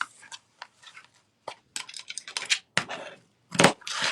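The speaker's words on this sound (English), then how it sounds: "then I'm going to cut 6 of the vintage floral wire" Scissors snipping through 1.5-inch-wide vintage floral wire ribbon: a series of crisp, close cutting crunches in irregular bursts, separated by short quiet gaps.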